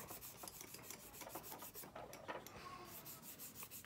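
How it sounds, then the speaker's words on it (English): A part from a Revell 1/48 F-15E plastic model kit is lightly sanded with coarse sandpaper, giving a quiet, close, rapid back-and-forth rasping rub. "I'm just going to lightly sand this."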